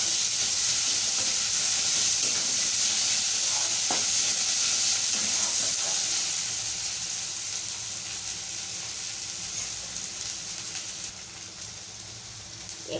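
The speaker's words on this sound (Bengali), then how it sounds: "এটা একটু কম তেলে রান্না করছি।" Tangra fish cooking in a little oil with ginger-garlic paste: a steady, loud, hissing sizzle throughout, easing slightly in the second half, with faint stirring clinks and no speech.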